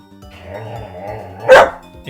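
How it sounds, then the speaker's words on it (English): A pet dog barks at a wall indoors, one sharp, loud bark after a stretch of low background sound. "Yeah, you're barking at the wall."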